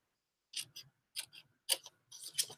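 Scissors snip through cloth tape in a few short, crisp cuts with quiet pauses between them, close and alone.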